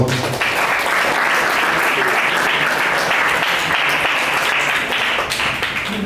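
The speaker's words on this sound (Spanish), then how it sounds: "Aplausos, por favor." Audience at a secondary school debate applauding, dense steady clapping throughout with a few voices mixed in.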